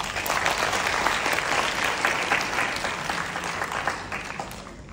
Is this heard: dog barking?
no